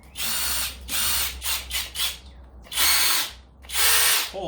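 A Kobalt XTR cordless impact driver runs in several bursts, a harsh, buzzing hammering whir that rises and stops, loud and close, with short pauses between triggers and no speech.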